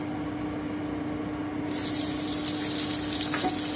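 Chopped onions hit a hot pan and burst into a loud, hissing sizzle that starts suddenly after a low, quiet hum, then keeps crackling steadily up close.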